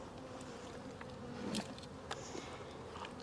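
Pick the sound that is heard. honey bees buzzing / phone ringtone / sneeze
honey bees buzzing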